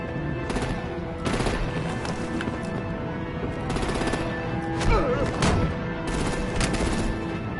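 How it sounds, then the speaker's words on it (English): Bursts of automatic gunfire in the video game Batman: The Enemy Within, several rapid volleys separated by short gaps, loud and close, with a few heavier impacts and scattered mechanical clatter between. "Break out the artillery and disable their vehicles!"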